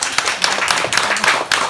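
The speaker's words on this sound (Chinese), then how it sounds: "我们掌声一下好不好？" An audience at a community association's 13th anniversary celebration in Tangqi, Matsu, gives a short burst of scattered handclapping, close and uneven, without speech over it.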